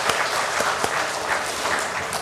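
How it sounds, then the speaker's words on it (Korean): A church congregation applauding together, a dense, steady wash of many hands clapping that fills the room for a couple of seconds. "박수하겠습니다."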